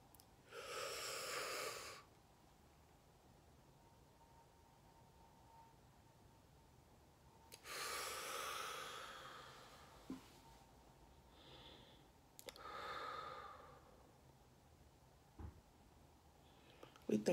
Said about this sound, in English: So I'm going to breathe in and breathe out